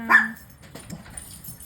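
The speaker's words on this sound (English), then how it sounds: "See, I told you guys, barking." A dog gives one sharp bark up close, followed by a softer whimpering yip and faint indoor background noise.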